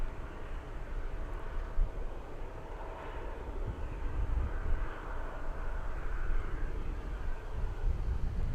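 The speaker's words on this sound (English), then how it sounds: "We have a Delta 737." A Delta Boeing 737 airliner passes overhead, its broad steady jet roar holding at a moderate distance and swelling slightly toward the end, with no voices.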